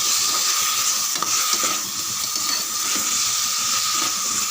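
Potatoes sauté in a pan with a dense, continuous sizzling hiss, loud and close, with faint stirring scrapes under the steady frying noise.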